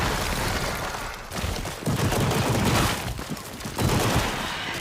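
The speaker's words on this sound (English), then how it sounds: "Firing my last rounds" Loud, sustained gunfire fills the VR shooter After The Fall: dense overlapping shots in rapid bursts with brief dips between volleys, heard up close and without any voices.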